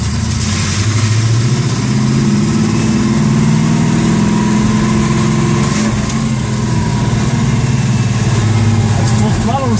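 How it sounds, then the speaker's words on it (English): A Pontiac GTO engine under full throttle, a loud, continuous low rumble that swells and shifts in pitch as the car pulls hard from inside the cabin, with people talking over it. "That's full throttle response."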